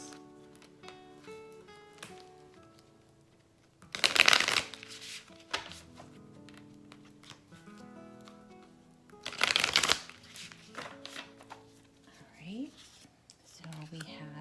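Tarot cards are shuffled by hand during a pick-a-card reading, with two loud bursts of riffling among quieter handling and soft taps.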